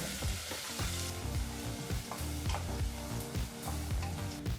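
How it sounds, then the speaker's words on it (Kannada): Chopped onion frying over a medium flame for aloo matar sagu gives a close, continuous sizzle, broken by repeated rhythmic scrapes of stirring in the pan. "ಈರುಳ್ಳಿನ ಮೀಡಿಯಂ ಫ್ಲೇಮ್ನಲ್ಲೇ ಫ್ರೈ ಮಾಡಿಕೊಂಡ್ರೆ ಸಾಕಾಗುತ್ತೆ"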